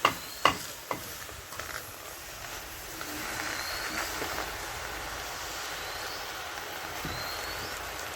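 Drumstick, taro and malabar spinach leaves hitting a hot wok, opening with a few sharp clatters and then settling into a steady, moderate sizzle that continues alone to the end.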